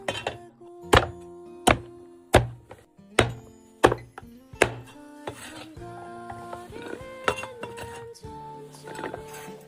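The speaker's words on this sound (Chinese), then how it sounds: "毛刮干净了，再给它砍一下。" A cleaver chops through a cured pork trotter on a kitchen board, with about seven sharp, loud, evenly spaced whacks followed by softer clinks and handling of pots and utensils.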